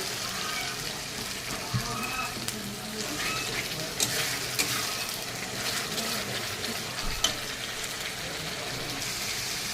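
Onion, ginger-garlic paste and tomato paste fry in a pan and are stirred, giving a continuous sizzle with irregular scraping and wet stirring sounds and a few clinks throughout.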